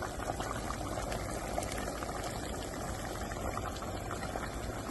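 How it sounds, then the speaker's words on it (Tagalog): Squid boiling in a covered pot at home: a steady, dense bubbling and simmering that holds at an even level the whole time, close by and with no voices. "Hayaan po nating maluto ang pusit."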